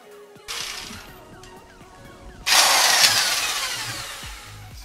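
A diamond core drill bores through a brick wall, its motor whining steadily at first and then jumping to a louder, harsher grinding roar partway through, close and continuous with no talking.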